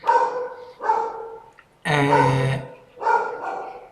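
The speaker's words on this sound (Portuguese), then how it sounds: "a cachorrada daquele jeito" Several dogs bark in loud, close bursts: three or four separate volleys with short gaps, one sharper and more intense in the middle, with a brief spoken syllable mixed in.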